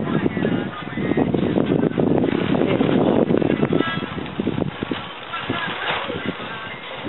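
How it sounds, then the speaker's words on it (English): Outdoor wind buffeting a microphone, a loud steady broadband roar with gusty swells during an outdoor haircut session with clippers; speech-like murmurs mix into the noise throughout. "Too much wind."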